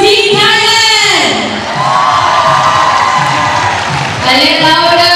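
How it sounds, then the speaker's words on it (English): A netball crowd at the 2017 SEA Games roars and cheers loudly for Team Thailand, with children shouting and whoops in a sustained, close wash of sound. "Now please cheer on for our neighbors, Team Thailand."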